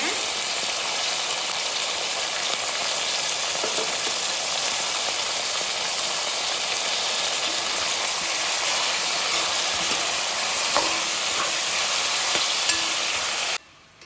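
Round-cut slices of raw plantain sauté in hot oil with a steady, even sizzle, close and continuous, ending abruptly near the end.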